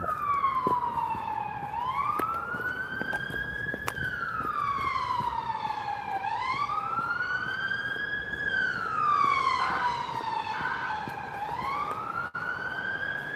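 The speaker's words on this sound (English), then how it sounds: "You hear the siren." A wailing siren rises and falls in slow sweeps, steady and fairly close, over faint road noise.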